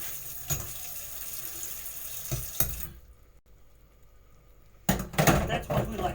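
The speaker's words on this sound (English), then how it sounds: "And while the water boils, I'm going to do the dishes so that we're already clean and nice and ready." Tap water runs into a kitchen sink as dishes are washed, a steady broadband rush with a few sharp clatters of crockery, a quieter gap midway, then louder splashing and clinking near the end.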